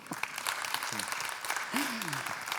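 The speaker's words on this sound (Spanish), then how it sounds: "Otro aplauso." Applause from an audience at a talk on flamenco, a soft, fairly distant patter of many hands clapping throughout, with brief voices rising over it.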